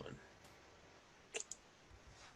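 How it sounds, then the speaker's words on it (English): A computer mouse clicks twice in quick succession, small sharp taps close by against a quiet room background with faint hiss. "Sorry, clicking on random stuff."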